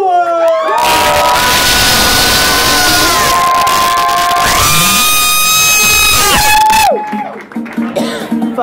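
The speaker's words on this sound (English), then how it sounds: "Give a big round of applause for Cookie Couture." A loud crowd cheering and screaming for a drag performer, continuous whoops and shrieks over a busy club roar that drops off abruptly near the end, leaving scattered shouts.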